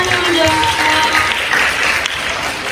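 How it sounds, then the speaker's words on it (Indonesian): An audience at a student organisation sharing session breaks into applause, a dense, even patter of many hands close by that holds steady for the whole stretch. "Oke, boleh tepuk tangan dulu dong."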